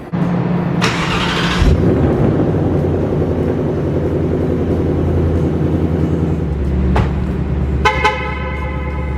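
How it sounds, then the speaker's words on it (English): A fully built 2020 Ford Mustang GT500 engine cold-starts with a loud, close starter whir that catches into a deep, steady idle rumble. A few sharp transient clicks come near the end, and no one speaks. "Let's get a cold start"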